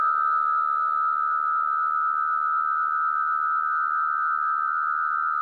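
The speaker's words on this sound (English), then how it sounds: "we also have a send that sends it back in at the top, and we keep looping through this forever" Steady no-input feedback loop tone built from sends inside Logic Pro X, a sustained pure-sounding hum with a strong mid-pitched core and faint higher and lower partials, unchanging and continuous throughout with no voice.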